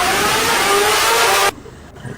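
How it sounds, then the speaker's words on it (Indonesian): A motorcycle engine fitted with nitrous revs hard in a loud, dense roar that holds steady, then cuts off abruptly into quiet background noise. "Ada motor saya hidup ya."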